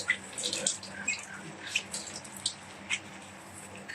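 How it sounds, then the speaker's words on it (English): Fishing gear is rinsed with water after a trip, with close splashing and trickling and a few sharp drips and splatters over a faint steady flow. "just rinse"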